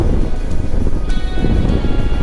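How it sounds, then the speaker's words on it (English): Strong wind sweeps across Narragansett Bay near Newport, Rhode Island, whipping up whitecaps, heard as a loud continuous rush of gusts and wave wash that buffets the microphone. "Whitecaps on Narragansett Bay with the wind today"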